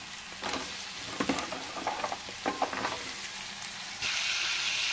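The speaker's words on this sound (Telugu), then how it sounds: "ఇప్పుడు మనం కడిగి పెట్టుకున్న ఈ చెమ్మకాయ ముక్కల్ని వేసేస్తున్నాం." Washed chemmakaya bean pieces drop into hot oil, setting off a burst of crackling and bubbling. A hiss swells near the end, close and fairly loud, with no talk.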